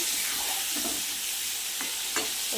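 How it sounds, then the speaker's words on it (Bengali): Pieces of potato and pointed gourd fry in oil, a steady hiss of sizzling with occasional soft scrapes and taps from stirring, close and unbroken. "দেখুন আমি ভেজে নিচ্ছি।"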